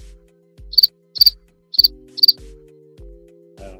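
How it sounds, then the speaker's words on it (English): A crickets sound effect from a Vivitar speaker gives four short chirps in an even rhythm, near and clear against quiet, with no talking. "buzzer, crickets"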